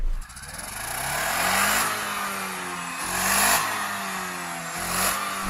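A supercharged 1.8-litre engine in a cheap used car, probably a Mercedes, revs hard three times in a row, with each rise and fall clearly heard close up and loud, with no talk.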